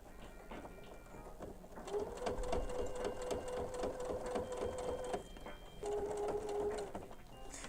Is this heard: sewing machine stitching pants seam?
yes